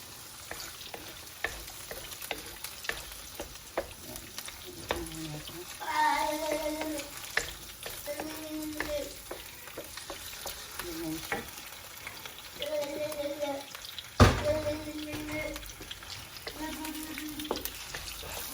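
Pork liver stir-frying for chopsuey in a hot pan, with steady sizzling and repeated scraping stir strokes, a sharp utensil clank near the end, and a voice speaking intermittently over the cooking.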